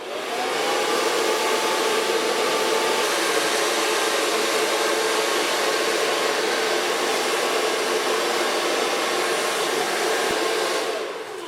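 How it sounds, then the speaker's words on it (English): A hair dryer blows steadily and loudly on short platinum and gold blonde pixie-cut hair, a continuous close whooshing roar lasting the whole stretch before cutting off at the end. "Let's start blow drying again."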